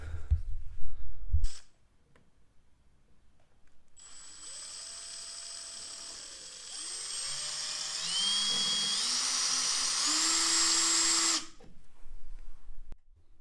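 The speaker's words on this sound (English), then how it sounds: "I thought this would just drill a nice hole real quick" An electric drill boring a hole into a wobbly balustrade whines in several bursts, its pitch climbing and dropping as the motor loads and frees up, close and fairly quiet with pauses between runs, no voices.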